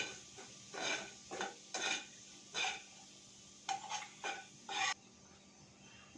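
Spices being stirred and sautéed in a pan for Halwai-style bread pakora filling, with a series of short scraping and clinking bursts of a spoon against the pan, close and moderately loud, with pauses between strokes.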